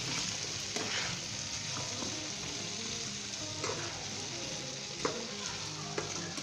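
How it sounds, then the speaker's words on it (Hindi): Potatoes frying in a non-stick pan, a steady sizzle with scraping stirs and occasional soft clacks of a spoon as they are mixed, close and continuous. "अब हम इसके अंदर आलू शामिल कर देंगे। दोस्तों इसे मिक्स कर लें।"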